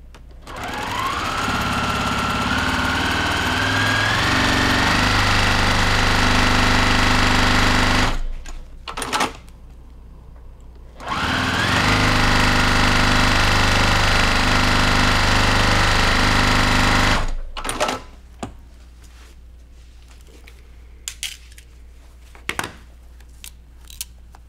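Sewing machine stitching a quilt block in two long steady runs of fast close rhythmic whirring, separated by a short pause and followed by scattered clicks and handling sounds.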